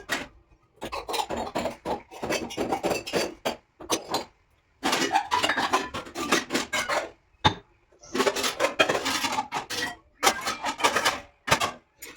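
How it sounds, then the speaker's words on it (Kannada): Metal vessels scrape and clatter in bursts as dishes are stacked in a home kitchen, with short pauses between each round of handling. "ಅಷ್ಟೊತ್ತಿಗೆ ಪಾತ್ರೆ ಜೋಡಿಸೋಣ ಬನ್ನಿ"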